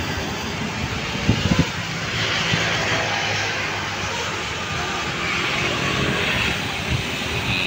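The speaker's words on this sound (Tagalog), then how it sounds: "malapit nang lumanding yung ating DJI drone" Steady whirring drone of a small DJI drone flying in to land, continuous and moderately loud, with a brief knock early on and wind noise throughout.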